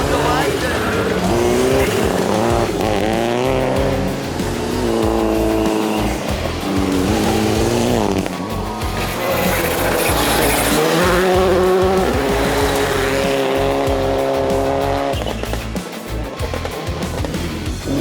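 Rally cars at full throttle on a night special stage of the 2022 Rallye Baie des Chaleurs rev hard through gear changes with squealing tires, all under a commentator's voice.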